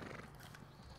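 Horse hooves in The Elder Scrolls Online video game, a brief faint clatter of clip-clopping steps with a hint of a whinny, quiet and alone without speech.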